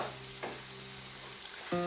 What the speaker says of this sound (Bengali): এবার আমি এই সময় যেটা করছি, কুমড়োটাকে এরকমভাবে ঘেটে দিচ্ছি।